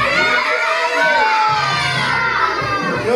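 A crowd of children shouts loudly together at a kids' show in a café, a sustained, dense burst of many young voices filling the whole moment.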